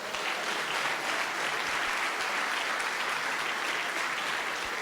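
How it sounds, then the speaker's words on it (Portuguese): A church congregation applauds in praise, steady dense clapping from many hands filling the room, moderately loud and continuous with no voices over it. "As palmas louvam o Senhor."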